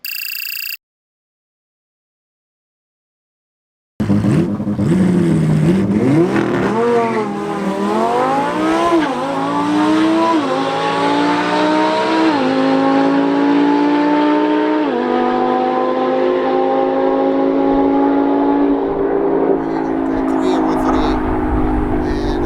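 A stock Ferrari F8 Tributo launching down a drag strip, its engine roaring loud and close as it climbs through rising upshifts, then fading slightly into a sustained high-speed drone; no talking.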